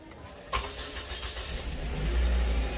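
A Volvo S80 car with a suspected misfire and smoke problem cranks and fires up on a cool morning, a sharp start followed by a steady, rising engine rumble up close, heard alone without talking.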